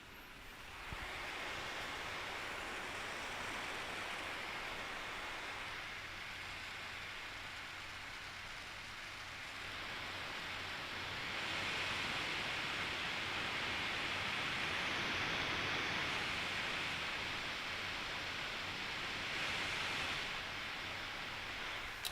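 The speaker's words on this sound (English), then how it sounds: "get the microphone as close to the GPU and the CPU fan, just to give you an idea of the noise levels" Steady, breathy whoosh of a Gigabyte P34W V5 laptop's GPU and CPU cooling fans running hard under load, constant with slight swells in intensity, heard up close with no talking.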